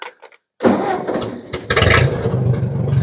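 An antique Ford 8N tractor engine, running rough, catches after a brief pause and runs loud and close with a throbbing, uneven idle.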